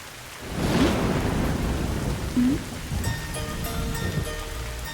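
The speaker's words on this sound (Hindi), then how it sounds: "अरे नहा रहे हैं तो बारिश हो रही है" Steady rain pours down outdoors while low thunder rolls and rumbles underneath, a continuous wash of rainfall with a deeper rumble swelling near the start, and a faint musical tone creeping in later.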